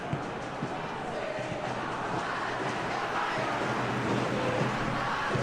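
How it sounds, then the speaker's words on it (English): A stadium crowd cheers in the PES football game during Persija versus Manchester United, a broad continuous roar swelling slightly toward the end, with a commentator speaking over it. "Crowd appreciates good football all round there."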